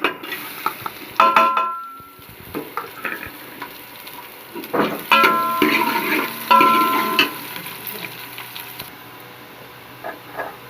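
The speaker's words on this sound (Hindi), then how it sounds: "ऑयल मेरे पास यहाँ पर गर्म हो चुका है, इसमें मैं ऐड करूँगी सबसे पहले प्याज।" Onions dropped into hot oil in a pot and stirred with a spoon, giving a close, lively sizzle broken by bursts of clinking and scraping against the pan, with no voices.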